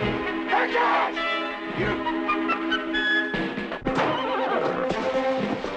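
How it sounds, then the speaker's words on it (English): A horse whinnies and neighs near and loud amid a busy mix of harmonic tones and movement, with possible hoof sounds, running continuously throughout. "You quit that whinnying."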